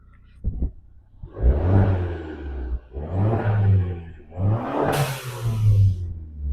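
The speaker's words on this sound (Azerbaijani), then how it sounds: "Biz indi çölə çıxsaq, qaz versək, pıs səsini eşidəcəyik." A Fiat 500 Abarth revs hard three times in a row, each throaty surge rising and falling close by, the last ending in a crackling burst of exhaust pops.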